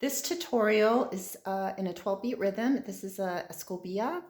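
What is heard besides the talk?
No everyday noise stands out behind the speech.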